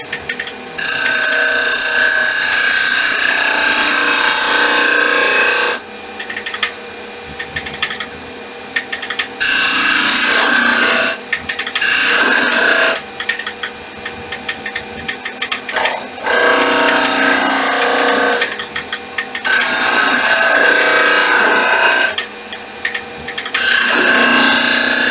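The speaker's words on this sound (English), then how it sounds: "We'll use this spindle gouge for this." A wand handle turning on a wood lathe is shaped with a spindle gouge: close scraping and rasping cuts come in repeated bursts of several seconds, separated by short quieter gaps while the motor keeps running.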